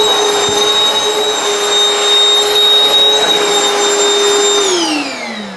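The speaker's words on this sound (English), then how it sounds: "get the vacuum and suck off the surface of the dirt" A vacuum cleaner sucks loosened dirt from car mats and upholstery with a loud, steady, high-pitched whine and roar, close up, then starts to wind down at the end.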